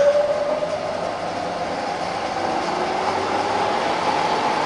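A rebuilt Bridgeport milling machine runs at 60 RPM, giving a steady, close mechanical drone with a faint rising whine and no speech over it.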